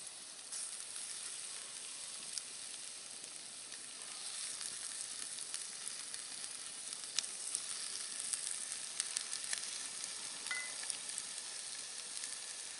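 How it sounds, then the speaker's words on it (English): Squirrel meat sizzles on a bed of onions in a cast iron pan, a steady soft frying hiss with faint crackles and pops throughout, no talking. "going to go ahead and add the squirrel back to the onions"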